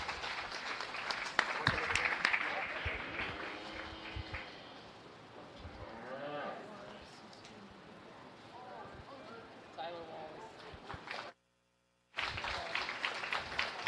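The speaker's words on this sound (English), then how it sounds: "Let's give these exhibitors a big round of applause." An audience claps steadily for exhibitors at the 2022 Dickinson County Fair beef show, a crowd applause that fades as an announcer talks over the arena noise.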